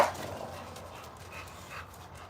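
A dog pants softly nearby and lets out faint whimpers, a quiet, breathy rhythm that continues after a short louder burst at the start.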